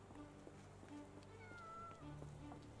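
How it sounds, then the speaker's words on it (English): Cat meows in the video game Sherlock Holmes: The Awakened. One faint drawn-out meow sounds over quiet ambient rain patter and soft low background tones. "Hello, cat. See, this game has cats."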